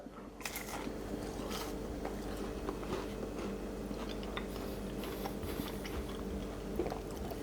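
Close, crisp crunching and chewing of a crispy air-fried tortilla pizza continues steadily, with repeated crackly bites and mouth noises and no one talking.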